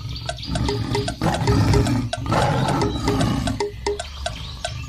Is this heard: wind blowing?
no